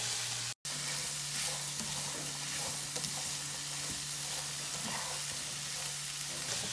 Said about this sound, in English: we're going to just kind of stir fry it for about 1 to 2 minutes